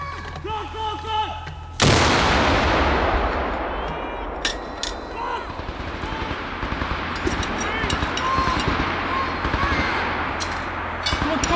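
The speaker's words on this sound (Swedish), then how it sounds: "Skott kommer!" Gunfire at a Swedish Home Guard military exercise in Boden: a sharp, loud shot with a long decaying echo, followed by scattered distant cracks and rumble from the forest, with voices calling out.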